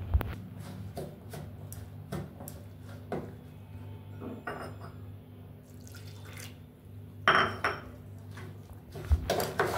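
A ladle clinks and scrapes against a metal pot while thickened milk is stirred, with irregular metallic taps and a couple of sharper knocks over a low, steady background hum.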